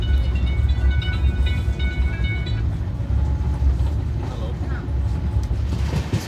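Trivandrum Rajdhani Express (12432) running on the line near Udupi, a steady loud rumble of wheels and carriage rattle throughout, heard from inside the train with faint background voices.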